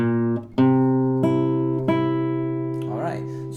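Acoustic guitar plays the third phrase of Spanish Knights, a grade-one classical exam piece, as a few plucked notes with sustained ringing harmonics, each new pluck sharp and clear, played solo at moderate loudness with no talking.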